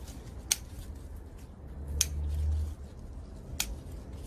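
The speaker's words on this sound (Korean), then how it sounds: "아, 잘 안 잘라지니까 가위로" Scissors snip through homegrown leafy salad greens during a garden harvest, giving three sharp, crisp cuts spaced about a second or more apart, fairly close, with quiet rustling and low background rumble between them.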